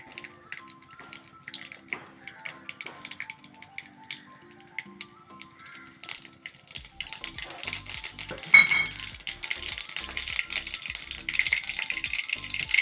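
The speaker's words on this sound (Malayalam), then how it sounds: "കടുക് പൊട്ടി" Mustard seeds crackle and pop in hot oil in a kadai, starting as sparse sharp ticks and swelling into a denser sputtering burst, close and fairly quiet, with no voices.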